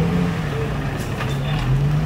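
Nissan Z drift car engine burped with a few quick revs, a loud steady low rumble rising and falling close by.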